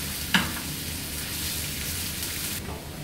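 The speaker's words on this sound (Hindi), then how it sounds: "अब ये 4 से 5 मिनट तक कैरेट फ्राई हो चुके हैं।" Carrots fry in hot oil for a plain Afghani Kabuli pulao, an even, close hiss with a brief clink near the start and the sizzle easing slightly toward the end.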